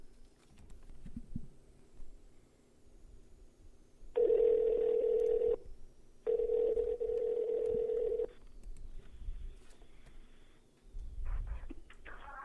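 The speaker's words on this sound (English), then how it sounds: "We are going to do one more prank call to Sarah, but this time it is to her phone." Phone keypad tones punch out a number for a prank call, a few sharp beeps followed by longer held tones in a quiet room with faint background noise.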